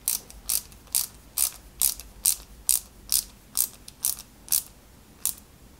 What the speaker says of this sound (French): on y met deux vis OM à tête plate que l'on vient visser tout simplement